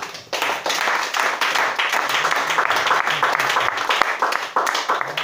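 A church congregation applauds and acclaims Jesus Christ during a service, with sustained loud clapping from many hands and voices cheering underneath.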